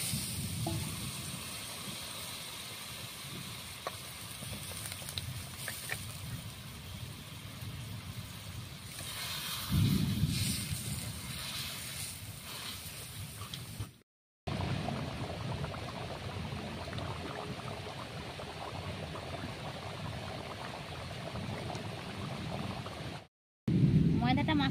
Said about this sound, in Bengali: ওর মধ্যে দিয়ে দিচ্ছি পরিমাণ মতো জল।